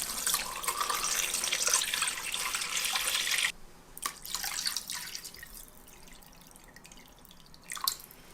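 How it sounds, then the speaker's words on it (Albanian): Tap water runs loudly into a pot holding a rooster for a festive Albanian pie, the rushing stream stopping after a few seconds and leaving drips and light clatter. "e mbushim me ujë derisa të mbulohet gjeli"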